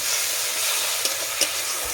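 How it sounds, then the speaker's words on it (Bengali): A spice paste with garlic juice fries in a pan, producing a loud, dense, steady sizzle close up with a couple of brief spatters, no talking. "এটাকে আমি ভালোভাবে একটু ভেজে নেব।"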